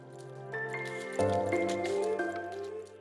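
Hot water runs from the tap of an espresso machine, a steady tonal hiss and trickle that deepens as it flows, close and continuous with no talking.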